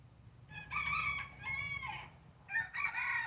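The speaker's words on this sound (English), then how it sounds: "The sounds of countless free-ranging roosters and native birds add to the aura of this place." Free-ranging roosters crow in Key West, two long harmonic cock-a-doodle-doo calls with a third starting at the end, fairly close and clear over a low steady background rumble.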